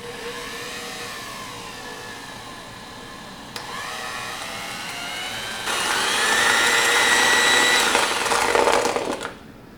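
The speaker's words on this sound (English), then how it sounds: "take out our electric mixer and cream this up" Electric mixer creaming sugar for Southern pound cake batter: a steady, close motor whine that shifts pitch as the speed changes, grows louder and rougher toward the end, then cuts off.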